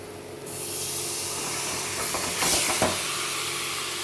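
Marinated chicken sizzles steadily in a hot pan while being sautéed with spices for dahi chicken, a continuous loud hiss with a brief louder spray of crackle midway.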